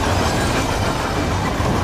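A moving train in the video game Hitman 3, giving a steady, dense rumble with a faint rattle of the cars that holds at constant loudness throughout, with no speech.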